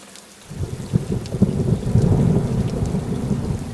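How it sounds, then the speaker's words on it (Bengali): Heavy rain pours down while low thunder rumbles and rolls continuously, loud and deep, with nothing else heard. "ভীষণ বৃষ্টি এসেছে সঙ্গে সঙ্গে সামান্য ঝড়"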